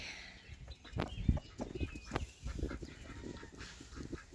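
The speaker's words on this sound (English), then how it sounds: "the big ducks are eating them pretty good" Big ducks eating green beans mixed with orange wedges, with soft quacks, dabbling and pecking sounds in a scattered, uneven rhythm nearby.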